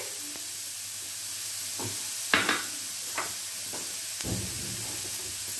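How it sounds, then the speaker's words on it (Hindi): Chopped onions, carrots and capsicum frying in a pan: a continuous steady sizzle with a few louder scrapes and knocks of a spatula stirring the vegetables, no voices. "और साथ ही हम इसमें शिमला मिर्च 1 टेबल स्पून ऐड कर देंगे और इनको भूनते हैं जी"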